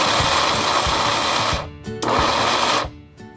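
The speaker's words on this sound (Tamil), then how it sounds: "மீதி இருக்க கடலைப்பருப்பை நம்ம இப்போ அரைக்க போகிறோம்" Mixer grinder grinding soaked chana dal: a loud, close whirring motor runs in two short bursts, each cutting off abruptly, with brief quiet gaps and a final short pulse.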